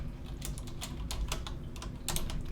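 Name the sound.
typing on a computer keyboard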